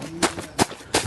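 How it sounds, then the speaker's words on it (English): Three sharp crunches of running footsteps on frozen leaves, evenly spaced and close. "it's a bit slippy. So one of those where the leaves have actually frozen"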